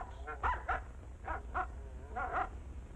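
A dog barks in short bursts within an old-time radio advertisement for Autolite resistor spark plugs, a few yips and woofs spaced over a steady low broadcast hum.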